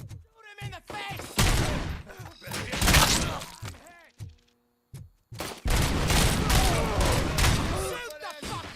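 Gunfire bursts in RoboCop: Rogue City, loud and repeated through most of the stretch, with a short quiet gap midway, mixed with shouting voices and impact noises.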